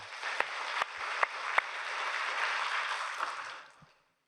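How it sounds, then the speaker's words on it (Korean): A church congregation applauds after a sermon: a steady wash of many hands clapping, moderately distant, holding evenly for about three and a half seconds before fading out. "하나님께 우리 감사의 박수를 올리기 바랍니다"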